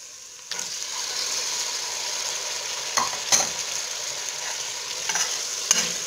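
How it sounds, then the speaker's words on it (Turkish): Tomato, tomato paste and vegetables for a bulgur soup fry in a pot with a steady, close, loud sizzle and a few sharp stirring knocks, with no one talking. "Ve karıştırarak kavurmaya devam ediyoruz"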